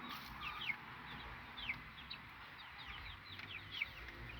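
Several chickens cluck softly at a distance in short, scattered bursts over a quiet outdoor garden background while feeding in the evening.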